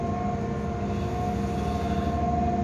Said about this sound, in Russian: Посмотрите, какой дизель-поезд.